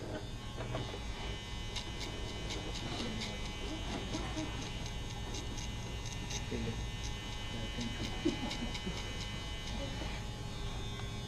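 Electric hair clipper steadily buzzing through a taper haircut, a continuous close hum with faint clicks, while people talk over it.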